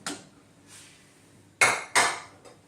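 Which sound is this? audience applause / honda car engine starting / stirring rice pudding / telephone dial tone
stirring rice pudding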